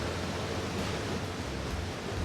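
Small waterfalls on a creek pour in a broad, loud, steady roar close by, a continuous rushing wash with no pauses or voices.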